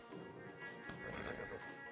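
Horse whinnying in Red Dead Redemption 2 while stallions are led out, a faint neigh over soft hoof clops and a low ambient bed, with no talk.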